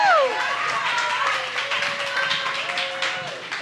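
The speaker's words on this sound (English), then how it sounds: "We're going to do one more round of applause for Scott" Audience applause for a speaker at a talk event, steady moderate clapping from a crowd that holds for a few seconds, with a gliding tone heard alongside it.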